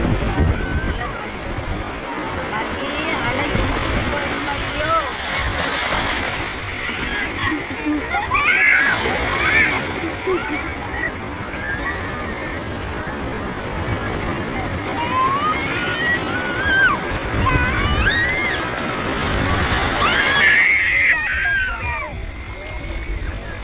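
Continuous splashing and sloshing of sea water at a Kerala beach as a family plays in the waves, a steady surf wash with bursts of splashes and distant voices babbling throughout.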